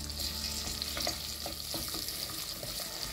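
Ginger garlic paste fries in a hot pan, giving a constant close sizzle with a few soft stirring clicks and no talking.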